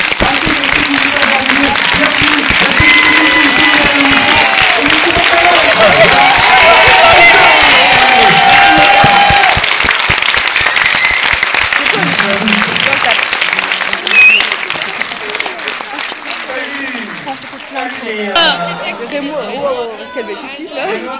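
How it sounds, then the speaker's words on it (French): A crowd claps and cheers to welcome a film crew, loud mixed applause and chatter for about ten seconds before dying down, with voices talking over the tail. "Sous vos applaudissements, l'équipe du film."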